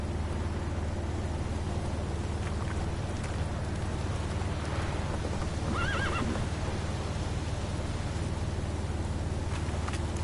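A horse in The Witcher 3 gallops with a continuous, muffled hoof rhythm under steady rain, letting out a clear neigh midway.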